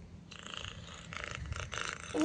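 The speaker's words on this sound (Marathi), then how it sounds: "हे मांजर आहे. मांजराचा आवाज" A cat sound played back by Google Assistant from a phone speaker, a soft, rough purring rumble broken into a few pulsing bursts, faint and close, with no talk.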